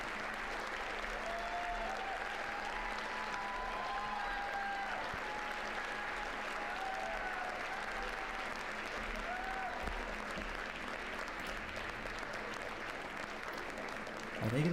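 A round of applause for an award winner at the White House Correspondents' Dinner: a steady, even wash of clapping from a large crowd that holds for the whole stretch at a fairly low, distant level.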